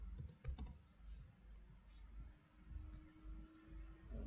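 Quiet, close keyboard typing as Python code is entered: a cluster of quick keystrokes at the start, then softer scattered taps under a low room hum.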